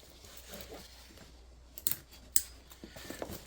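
Backpack shoulder straps being clipped into their buckles: two faint, sharp plastic clicks, separated by about half a second, over quiet background handling noise.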